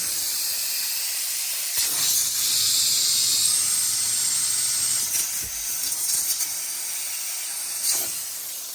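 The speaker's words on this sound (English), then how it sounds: "It's just a constant supply of steam" A Chief 155psi garment steamer hisses steadily and loudly up close, a continuous airy rush of steam with a few brief surges and dips.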